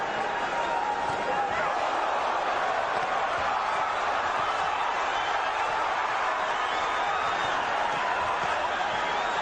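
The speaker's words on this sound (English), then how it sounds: "Crowd is excited to see Barrera take so many punches from Junior Jones" An excited boxing crowd roars steadily throughout a 1990s bout, while a commentator talks over the constant wash of cheering.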